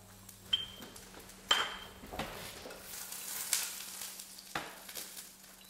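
Pre-cooked potato fries in oil in a pan at a large catering event, a steady soft sizzle with occasional clinks of utensils and metal, close and fairly quiet.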